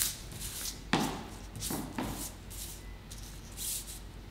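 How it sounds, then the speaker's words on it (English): Playing cards being mixed around by hand, producing soft papery swishes and a few sharper slides in an uneven rhythm, close and fairly quiet. "you can mix these cards around"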